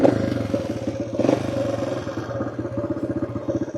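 A 1974 Honda CT90 90cc motorcycle engine starts and runs, its small single cylinder firing in a rapid, even putter, close and fairly loud, with a bit of mechanical clatter.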